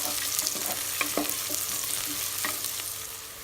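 Onions sautéing with salt in a pan for seeraga samba chicken biryani sizzle steadily, broken by a series of sharp spoon scrapes and clinks as they are stirred close up.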